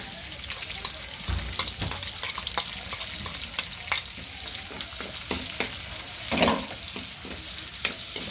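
Garlic sizzles and crackles in a hot pan, joined by onion, with frequent clicks and scrapes of stirring, moderately loud and steady throughout.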